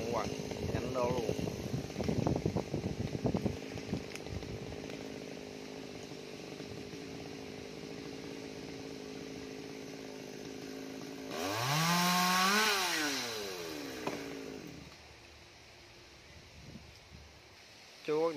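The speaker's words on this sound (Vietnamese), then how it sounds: "Chú bắt đầu thả cái máy cưa xuống rồi xuống dưới này nghe các bạn." A chainsaw used on a large agarwood (dáng hương) tree drones steadily, then revs sharply up and back down in one loud swell before idling, with someone talking over it.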